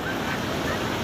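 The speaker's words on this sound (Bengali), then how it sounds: "এদিকে দেখো পুরো ঢেউ, চারিদিকে ঢেউ আছে।" Brief, steady wash of sea surf at Mohona beach, Digha, a continuous close roar with light wind noise on the microphone.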